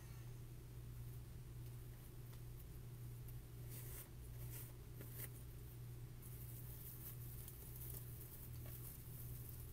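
Faint, steady rain patters continuously outside during indoor Halloween wreath crafting, a soft even hiss with occasional slightly louder drips and no talking.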